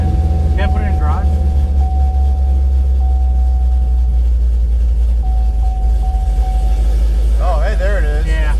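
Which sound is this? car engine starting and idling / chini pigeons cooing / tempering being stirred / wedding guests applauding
car engine starting and idling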